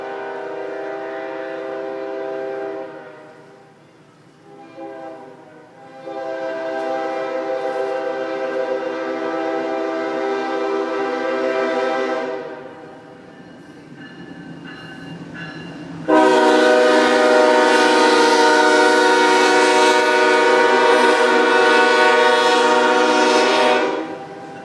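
A train rolls past close by, sounding its horn in long blaring blasts, first in two stretches and then a louder final blast, with rumbling wheels underneath and nobody speaking.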